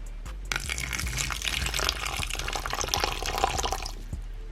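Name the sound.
water poured from a beaker into a pet's water bowl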